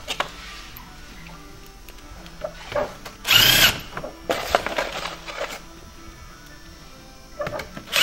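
A power driver sinks tech screws into polystyrene ICF forms on a flat work table, giving two short, fairly loud whirring bursts separated by quiet pauses, with faint workshop background.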